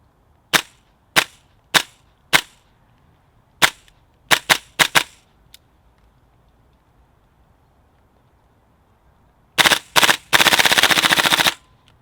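A Tokyo Marui M4 MWS gas blowback airsoft rifle fires BBs outdoors in snow, first a string of single sharp cracks with uneven gaps, then after a long pause a couple of shots and a rapid full-auto burst.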